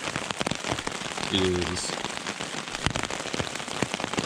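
Rain patters steadily on a tent at the Lance Creek campsite on the Appalachian Trail early in the morning, close drops tapping in an uneven rhythm while a voice says a couple of words.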